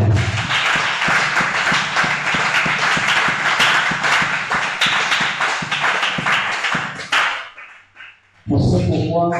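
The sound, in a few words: audience applauding at a church seminar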